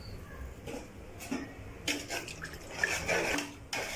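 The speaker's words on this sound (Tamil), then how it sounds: "இப்போ நம்ம தண்ணி சேர்த்துக்கலாம்" Water is poured into a pot of chicken biryani in a home kitchen, with several splashy bursts and drips and light clinks of cookware, close and fairly quiet.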